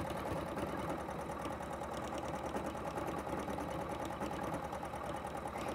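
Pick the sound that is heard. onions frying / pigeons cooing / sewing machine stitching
sewing machine stitching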